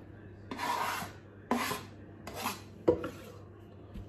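A knife slices boiled beef with cartilage into pieces in a kitchen, four separate rasping strokes against a board in close succession, each a short scraping cut with quiet pauses between.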